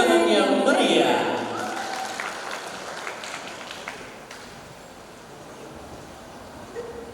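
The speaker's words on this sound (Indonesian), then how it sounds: "Beri tepuk tangan yang meriah." An audience at the Duta Bahasa ambassador contest final in Bangka Belitung, 2026, breaks into steady, crowd-wide applause for the finalists just after a brief voice, the clapping gradually thinning and fading.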